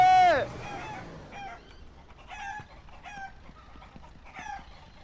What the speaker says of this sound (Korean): 그래서 얘네들 풀어주라는 거죠 여기 닭 있던 거